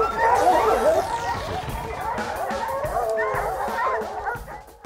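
A hunting hound barks and yips excitedly at a bear in the woods. The bursts are irregular and fairly close, with a faint whining edge, and another high sweeping tone passes briefly early on.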